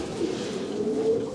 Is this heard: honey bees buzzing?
no